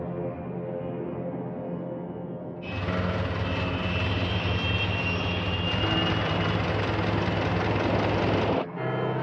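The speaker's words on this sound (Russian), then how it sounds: "Разрешите запуск двигателя." An aircraft engine starts up on an airfield: a low steady hum jumps into a louder, rougher roar as the engine catches, then runs on with a rising whine before a brief dip.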